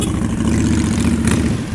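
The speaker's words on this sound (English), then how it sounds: "they're all pulling out now." A group of touring motorcycles in San Juan del Sur, Nicaragua, starts up and pulls away from a line, engines idling and revving together in a loud, continuous mid-to-low rumble nearby.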